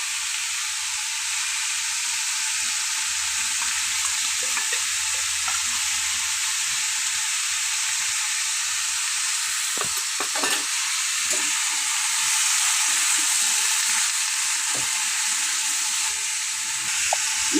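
A spice paste of ground coriander, cumin, turmeric and dry chilli frying in a pan with fig and potato, a loud continuous hissing sizzle with occasional sharp spatula scrapes and taps, close and without speech.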